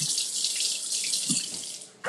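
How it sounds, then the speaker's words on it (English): Hands are washed under a running kitchen tap during cooking, a steady close hiss of flowing water with splashing that dips briefly near the end before the stream surges again, with no talking. "Wash my hands again."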